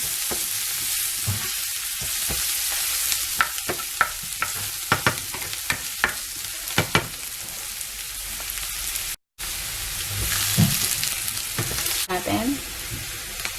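Onions sauté in oil in a pan with a steady, fairly loud sizzle, punctuated by sharp taps and clicks of a utensil, and a brief silent gap partway through.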